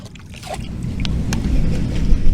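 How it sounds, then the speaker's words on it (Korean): Rainwater drains down a rooftop drain on a building in the rainy season, a low gurgling, rushing wash that grows steadily louder over a couple of seconds, close and continuous, with faint splashy clicks. "물이 내려가는 소리가 들리네요"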